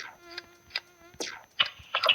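A thin, high buzz of a fly in a video game drones continuously, punctuated by several short, sharp clicks and swishes.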